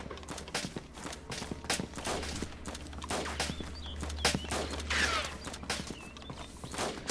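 Gunfire in the survival game DayZ, with an M4 rifle involved: a dense run of sharp cracks and shots, some near and some farther off, over a steady low hum and scattered movement noises.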